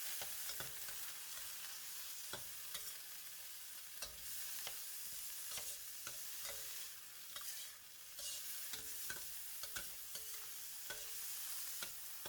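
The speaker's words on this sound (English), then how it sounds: "Stir to evenly distribute them. This heats the vegetable and thaw them nicely." Frozen mixed vegetables with light soy sauce are stir-fried in a very hot wok with lap cheong and garlic, giving a loud, steady sizzle punctuated by repeated sharp spatula scrapes and knocks.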